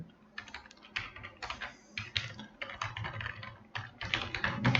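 Rapid typing on a computer keyboard as a website address is entered, with a quick, uneven run of clicky keystrokes and short pauses, close and fairly quiet, with no talking.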